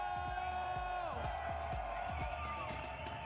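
An arena crowd at a Valorant esports match, VCT Masters Santiago, keeps up continuous cheering beneath a caster talking steadily over the noise.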